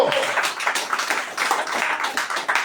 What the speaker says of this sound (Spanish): Iglesia del Señor, dale un fuerte aplauso a ese rey, pero dáselo fuerte